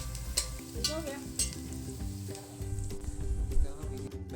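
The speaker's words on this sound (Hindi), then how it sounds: "प्याज का तड़का लग रहा है।" Onions frying in hot oil for mutton biryani, a close, steady sizzle with stirring scrapes and utensil clinks against the pot, rising slightly toward the end.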